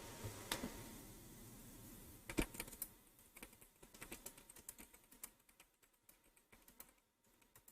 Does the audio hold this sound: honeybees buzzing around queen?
no